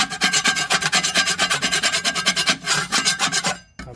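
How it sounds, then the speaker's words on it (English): A mason's finishing trowel scrapes old, rotting paint off wood in a steady run of rough, rasping strokes, each one close and loud, repeating in a quick even rhythm before a brief pause. "One of the tools I found works best for scraping off paint is actually a Mason's finishing trowel here."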